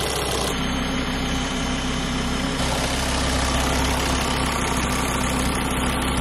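A car engine idles continuously at close range, a steady low rumble with a constant dense roar and no speech.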